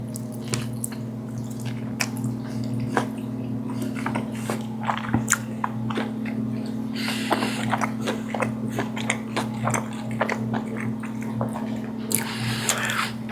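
Crunchy bites and wet chewing of a crispy carnitas taco made with blood orange, with close, repeated crackles and squishy mouth sounds over a steady low hum.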